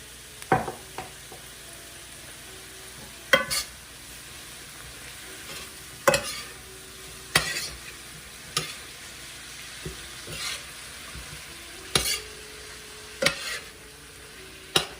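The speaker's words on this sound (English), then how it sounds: "here we're gonna add our fish sauce." Fish sauce goes into a Jamaican-style cabbage stir fry in a pan, with a quiet, continuous sizzle broken by sharp clinks and scrapes of a utensil against the pan every second or two.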